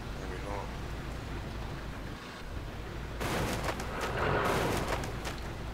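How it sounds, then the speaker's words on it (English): Explosion and gunfire in the video game Arma 2 arrive as a distant, rumbling burst and rattle of shots that swells partway through and lingers, heard over a steady ambient background with voices talking. "Should we go towards that explosion or whatever it was?"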